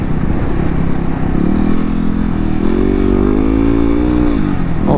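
A 2016 Yamaha WR250R single-cylinder motorcycle engine drones loud and close while being ridden. The pitch rises steadily as it accelerates, with wind rumble throughout and no one talking.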